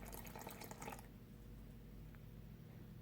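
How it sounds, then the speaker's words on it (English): Fifty grams of water poured into a sourdough starter in a kitchen, a short faint trickle at the start that fades into quiet room tone. "So I'm going to add in 50 grams again of water."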